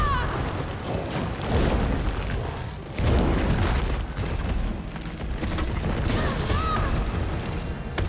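Grenade rounds firing and exploding in the video game Resident Evil 3, with deep repeated booms and rumbling blasts one after another, loud and sustained, and a voice speaking beneath them.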